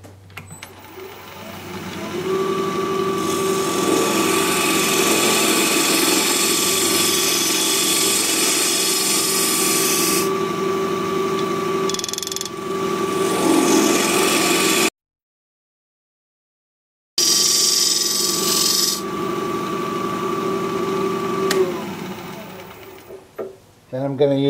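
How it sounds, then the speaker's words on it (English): A 3/8 inch bowl gouge cleans out a recess in a ginkgo biloba salt cellar spinning on a wood lathe. Scraping cuts sound over a steady motor hum, with a brief silent gap midway. "I'm going to use a 3/8 inch bowl gouge to clean out the recess."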